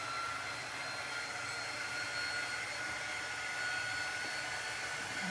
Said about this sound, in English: I'm just going to use the air dryer because we're just using chalk paste